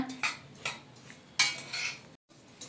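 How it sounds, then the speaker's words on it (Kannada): A spoon clatters against a metal bowl in a few quick bursts of scraping and clinking as ingredients for rice tambittu, a traditional Karnataka sweet with poppy seeds, are mixed, close up, with short quiet gaps between strokes. "ಈಗ ಈ ಥರ ನೀಟಾಗಿ ಎಲ್ಲ ಹಾಕಿ ಮಿಕ್ಸ್ ಮಾಡ್ಕೊಳ್ಳೋಣ."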